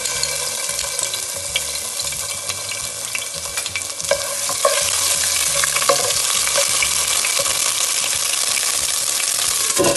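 Garlic-ginger paste fries in hot cooking oil in a pan for chana masala, giving a loud, steady sizzle with intermittent scraping of a stirring spoon, close and continuous.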